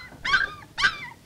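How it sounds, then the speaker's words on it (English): A puppy gives two short, high whimpering yelps spaced about half a second apart, close and clear, with the start of a third at the end and no talk over them. "a puppy."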